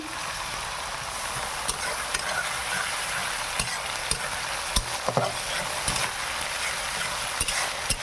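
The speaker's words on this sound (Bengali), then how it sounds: "আদা রসুনটা ভালো করে ভেজে নেই" Ginger and garlic fry in hot oil in a pan, a steady close sizzle broken by repeated scraping stirs of a utensil against the pan.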